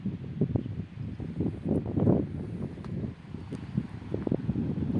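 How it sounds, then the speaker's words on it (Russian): Strong, gusty wind blowing outdoors near a house with a see-through fence, a steady roar with surging gusts and rustling, buffeting the microphone continuously with no talk. "Ветер с ног сшибательный просто."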